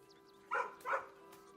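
A dog in the video game Baldur's Gate 3 gives two short, soft barks in quick succession over a quiet, steady background hum.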